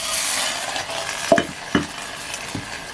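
Water hits hot roasted dried Bombay duck in a pot over a wood-fired stove, a bright hiss that fades, followed by a few close clanks and scrapes of utensils.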